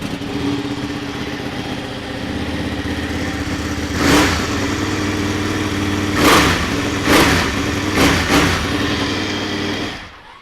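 A 2013 Ducati 1199 Panigale with standard exhaust starting up and idling with a steady, loud engine drone, punctuated by four sharp throttle blips before the engine cuts off.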